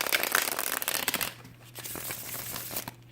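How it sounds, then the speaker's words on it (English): Tarot cards are shuffled quickly, crisp riffling and flicking, then softer handling noises with a faint hum behind. "I'm going to do just a couple quick shuffles"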